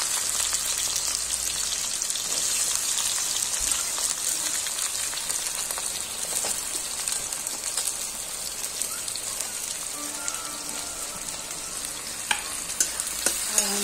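Sliced onions frying steadily in a hot pan with green chillies for a bitter gourd (karela) curry, a continuous close, even sizzle with soft crackle and no talking.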